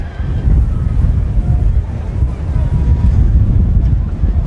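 Strong wind gusting across the microphone at an outdoor high school football game stadium, a steady loud low rumble and buffeting throughout with faint background activity.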